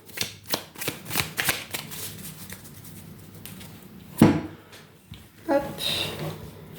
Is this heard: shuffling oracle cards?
yes